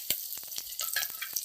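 Fish curry sizzles and spits in a hot pan after liquid is poured in, a close run of crackling frying bursts and short spattering pops with no voices.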